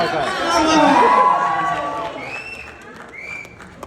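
An audience at a stage event in Dubai claps and cheers, a loud burst of applause with whoops that swells early and then fades into scattered claps and murmuring.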